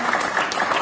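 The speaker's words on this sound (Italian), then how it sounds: "Io farei un applauso a Massimiliano" Audience applause at a poetry book presentation, a steady continuous patter of many hands clapping at close range for under a second.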